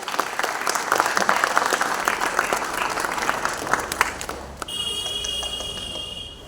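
A crowd claps loudly at a school Republic Day (26 January) function, steady dense applause over the first four seconds before thinning, with an electronic tone or beep pattern cutting in near the end.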